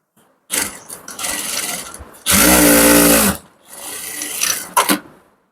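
A sewing machine stitches the front of a ladies' pant in bursts, with a loud sustained run in the middle and shorter, softer runs of mechanical whirring before and after, heard close up with no talking.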